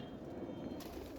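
A silver-necked male pigeon coos steadily in low, rolling tones, close by and continuous, with no talking over it.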